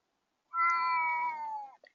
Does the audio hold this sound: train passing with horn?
no